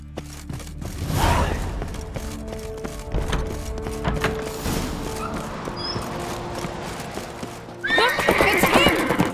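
Horses neigh loudly and hooves clatter at a gallop amid a busy, rumbling scene in the video game The Witcher 3: Wild Hunt, with a shrill whinny rising near the end.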